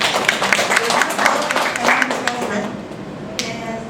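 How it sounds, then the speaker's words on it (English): An audience claps for the Dagupan Toastmasters Club at a Binibining Bayambang 2017 event, a burst of clapping that thins out and fades toward the end. "give a clap to the Dagupan Toastmasters Club"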